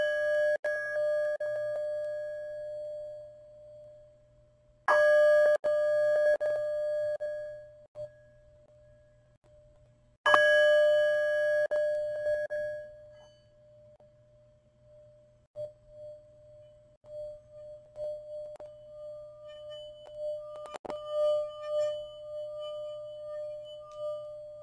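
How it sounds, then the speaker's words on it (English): A bell is struck three times, each ring clear and sustained as it slowly fades, then a singing bowl rings and hums, in a quiet gentle yoga session for low back pain. "I'm going to ring the bell 3 times and then sing the bowl."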